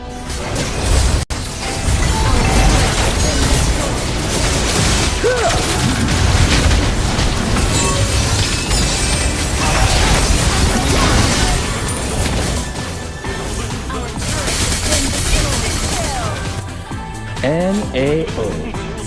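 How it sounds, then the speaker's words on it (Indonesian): During a Mobile Legends match, a turret comes under attack and is destroyed: dense, continuous game combat with booms, crashes and bursts, loud throughout with voices mixed in. "Our turret has been destroyed."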